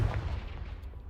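A Confringo spell explosion in Hogwarts Legacy, a loud, booming burst that hits at once and rolls off into a decaying rumble over about a second.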